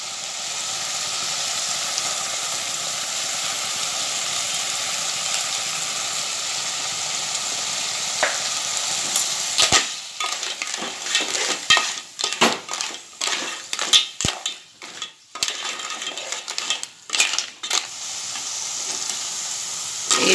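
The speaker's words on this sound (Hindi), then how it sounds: "ये देखिए सिप्पियों को हम मसाले में अच्छे से भुनेंगे।" Clams sizzle in masala in a pan while being stirred, a steady frying hiss at first that breaks into scraping, clinking stirring strokes and crackles.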